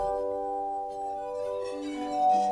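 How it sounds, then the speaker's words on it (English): A solo glass harmonica plays a Mozart piece, with pure, sustained ringing tones overlapping and shifting as the melody moves, bright and close. "It's written just for solo glass harmonica by Wolfgang Amadeus Mozart."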